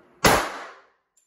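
A single loud bullet impact from an 85 Kimar gun striking a target, one sharp metallic clang with a short ringing decay, close and alone.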